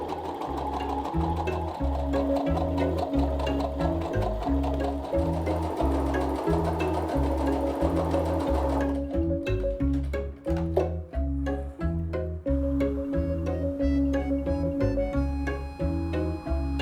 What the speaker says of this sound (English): I started finishing the edges with an overlock stitch to save time.